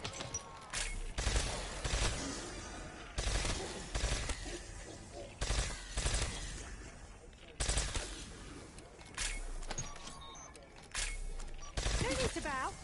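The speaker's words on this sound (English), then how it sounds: "Close to a gunfight." Gunfire in a PS5 zombies shooter: repeated bursts of automatic fire in several spaced volleys, loud and close, with a character's voice speaking between and over the shots.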